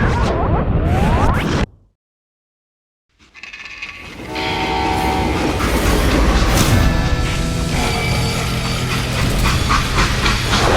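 A train in the video game Call of Juarez: Gunslinger rumbles and clatters loudly, with a horn-like tone and a rushing whoosh after a brief silent break, sustained and close.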